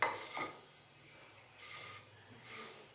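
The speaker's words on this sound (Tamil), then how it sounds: "இப்போ இதில் கொஞ்சம் கீழே மேலே இப்படி பண்ணி வறுத்துக்கலாம்" Javvarisi and semiya being stirred and dry-roasted in a pan for paal payasam, with faint scraping and rubbing strokes that swell and fade in a few soft bursts.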